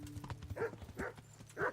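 Horse hooves clip-clop in a steady slow walk in Kingdom Come: Deliverance, three or four clear strikes close by over faint ambient background.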